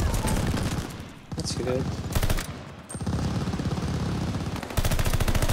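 Rapid automatic gunfire from a video game weapon with no attachments, dense bursts filling most of the stretch with a short lull, loud and close, with a player's voice talking briefly over it.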